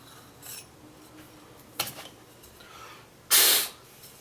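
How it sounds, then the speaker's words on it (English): A metal reamer scrapes a bass tuning peg hole on a Martin guitar during restoration, giving a few short, light rasping strokes that are faint and close, with one sharper, louder scrape near the end. "every once in a while, I'll take the reamer"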